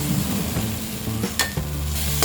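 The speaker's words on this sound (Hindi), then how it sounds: "ग्रीन चिलीज और अदरक का पेस्ट, मिक्स करते हैं। और इसे लो फ्लेम में फ्राई करेंगे।" Green chili and ginger paste frying in oil over a low flame, a close, continuous sizzle broken by a few sharp clicks of a spoon against the pan.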